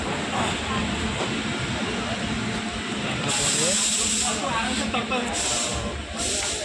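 A train arriving at a station gives a steady, loud hiss and rumble of moving rail cars, with bursts of brighter hissing toward the end and people talking faintly in the background.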